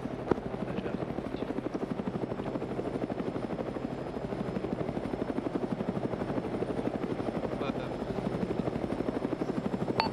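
A helicopter in the video game Arma 3 keeps up a loud, continuous rapid rotor chop with engine drone for the whole stretch, close by and steady, with no one talking over it.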